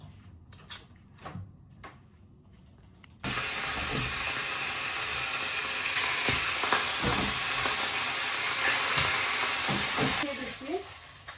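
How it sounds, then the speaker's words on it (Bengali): Cumin seeds dropped into hot oil burst into a loud, steady sizzling hiss that begins abruptly and carries on for several seconds before easing off, following a quieter stretch of clatter and faint talk. "আর জিরার ফোড়ন দিয়ে দিচ্ছি"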